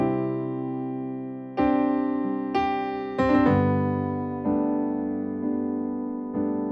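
Piano plays two sustained chords with a short melodic fill linking them, each struck chord ringing out and decaying before the next notes enter, close and clear with no talking.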